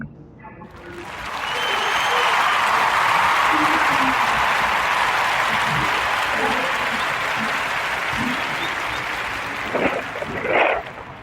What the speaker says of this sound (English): join me in giving this young sister a well-deserved warm round of applause